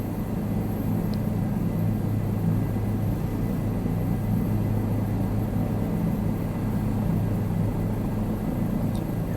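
Helicopter in Microsoft Flight Simulator 2020 slowing toward a hover, heard as a steady, even rotor and engine drone with constant loudness and no talk.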